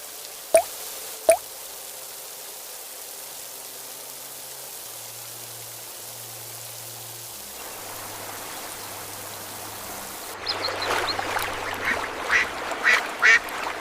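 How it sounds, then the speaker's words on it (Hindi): Water drips through the broken roof of a poor family's hut on a rainy morning, with a few sharp isolated drops early and then a busier patter of drips over a low, steady background hum. "रमेश टूटी छत से टपकते पानी को चुपचाप देख रहा था"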